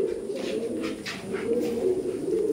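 Kabji pigeons coo in a loft, a low rolling murmur pulsing in soft repeated waves, close and clear with nothing else over it.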